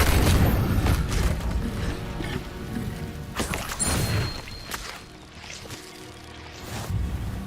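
A fire spell cast in the Hogwarts Legacy video game, heard as a loud booming burst with crackling impacts, followed by further rumbling bangs and effects over the game's background sound.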